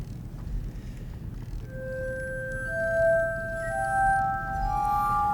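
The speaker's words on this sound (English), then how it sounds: "I think we should know about the glass harmonica because it's truly the first American instrument." A glass harmonica sings in sustained, pure ringing tones that enter one after another and overlap into soft chords, close and unaccompanied over a low room hum.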